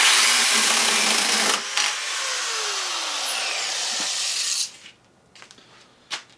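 An angle grinder cutting metal held in a cheap, worn clamp, whining loudly and steadily for several seconds before spinning down, followed by a few sharp clanks and knocks, close by.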